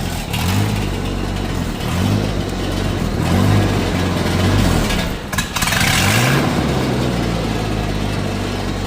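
Car engine idling with its muffler disconnected, a loud raw exhaust drone with repeated rising and falling revs, a brief dip midway, close up and without talk.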